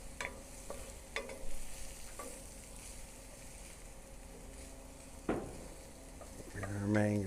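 Mangoes and garlic sizzling and frying down in a pan at a backyard BBQ, a steady low crackle with occasional utensil scrapes and stirring, ending with brief muffled speech.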